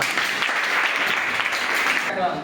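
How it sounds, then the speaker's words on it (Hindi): Students in a Sanskrit classroom clap together after a teacher's praise, a dense, steady round of applause from a group close by, running loud for a couple of seconds before cutting off. "ताली कर दो इसको"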